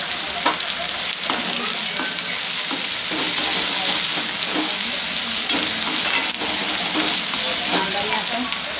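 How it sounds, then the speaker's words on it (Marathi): Onions fry in a pan, browning for masoor dal, with a continuous close sizzle and crackle. Spatula stirs scrape against the pan at intervals. "कांदा मी आपण व्यवस्थित गोल्डन ब्राऊन करून घेणार आहे."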